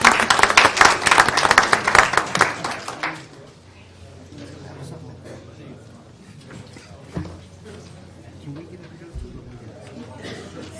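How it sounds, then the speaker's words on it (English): Dense clapping from a crowd at a board of education meeting for about three seconds, then it fades into a quiet room with faint shuffling and scattered small knocks. "So we'd like to give you all another round of applause."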